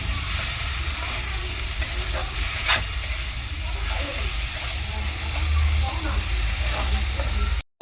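Spice masala sautéing in a pan for a Bhola fish tel jhal curry, giving a steady close frying sizzle and hiss that holds throughout with faint stirring scrapes.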